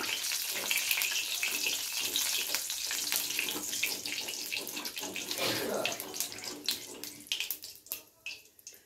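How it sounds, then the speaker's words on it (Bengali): Whole cumin seeds and dried red chillies sizzle in hot oil as a tempering for a Bengali aar fish kalia, a steady hiss that thins into sputtering crackles toward the end. "সামান্য একটু গোটা জিরে, ফোড়নটাকে হালকা নেড়ে চেড়ে ভেজে নেব"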